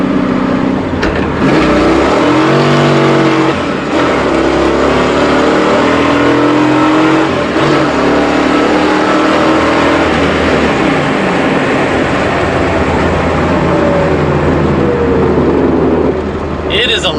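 A 1992 Pontiac Firebird Firehawk engine drones loud and steady while driving, with rising revs early on and a continuous low rumble throughout, alone without talk.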